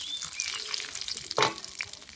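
Cumin seeds tempering in hot oil for a potato and cauliflower curry. The oil gives off a steady broadband sizzle, with a louder crackling burst partway through, and nobody speaks.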